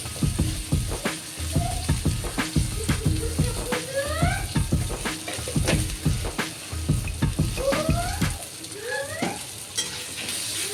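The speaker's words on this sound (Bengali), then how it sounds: "আমটা ভালোভাবে ভাজা হয়ে গেছে" Mango pieces fry in a pan with turmeric and sugar while a spatula stirs and scrapes in a quick, uneven rhythm, with a soft sizzle underneath and a few faint chirping squeaks in the background.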